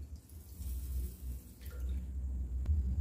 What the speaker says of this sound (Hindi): अब इसमें डाल लेंगे 1 कप पानी।